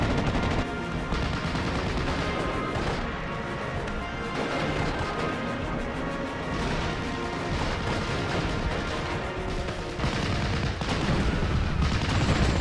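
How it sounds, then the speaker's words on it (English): Sustained machine gun fire and scattered gunshots crackle through woods in the WWII strategy game Steel Division: Normandy 44, a dense, continuous battle din with bursts overlapping throughout and no pauses. "Got some MG fire going on in the woods."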